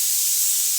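A kitchen pressure cooker vents steam in a loud, steady, unbroken hiss that lasts the whole short moment.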